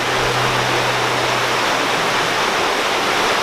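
Johnson Creek running high in winter beneath a small footbridge, a loud, continuous rushing roar of flowing water, close and unbroken, with a low hum underneath early on.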